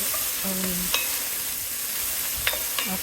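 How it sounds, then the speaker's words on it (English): Onions, garlic and tomatoes cooking in oil and butter in a Dutch oven, a soft steady sizzle with a few clinks and scrapes of a utensil stirring the pan. "after that, I saute the onions and the garlic, and then also the tomatoes"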